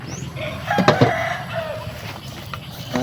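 Fighting roosters crow nearby in a rural setting, with a couple of drawn-out calls over low background rumble and a few sharp knocks.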